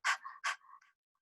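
Rapid rhythmic panting breaths in the style of Breath of Fire yoga breathing, two strong bursts then softer trailing puffs, close and alone with no talking.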